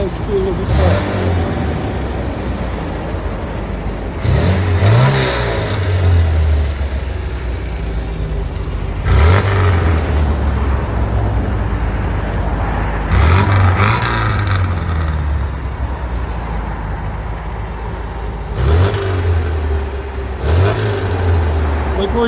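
A 1971 MG Midget convertible with a 1275cc engine revs repeatedly through its exhaust, loud and close, with blips every few seconds rising from a steady idle, while people talk over it.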